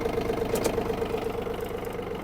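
A Yanmar F-200 mini tractor engine runs with its power take-off engaged, a close, steady mid-pitched chugging with a rapid even pulse.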